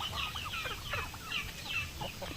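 Native chickens and chicks clucking and cheeping close by on a backyard farm, a steady overlapping flurry of short calls with a low background rumble and no talking.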